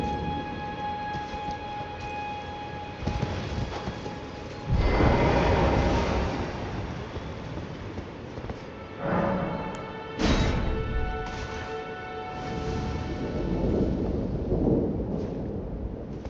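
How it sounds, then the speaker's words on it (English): In the video game Elden Ring, a carriage pulled by giants rumbles along in a steady, heavy roll. Louder surges swell at intervals, and no one speaks. "carriages like that pulled by giants do contain items."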